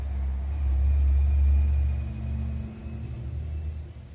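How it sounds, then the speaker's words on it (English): A vehicle, probably a truck, rumbles past outside a house at night, a low steady drone swelling in the first two seconds and then fading as it moves away, with no talk. "Especially with a truck going by."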